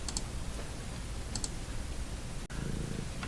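A cat purrs softly and continuously close by, with a few faint clicks over the low rumble.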